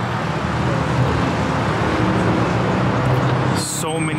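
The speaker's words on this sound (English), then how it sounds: "Look how many BMWs are pulling in." BMW cars pulling into a car meet: a steady, close roar of engines and tyre rumble fills the scene, with a person talking over it.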